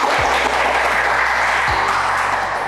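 Dense, steady applause from a school audience fills the room, a broad continuous wash of many hands clapping at once with no voices on top.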